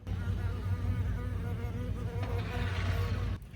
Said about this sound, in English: There's this bee flying around the garage and it's driving me crazy.